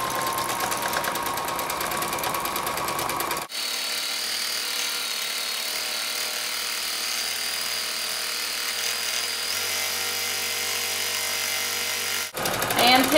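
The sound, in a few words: sewing machine free motion quilting autumn topper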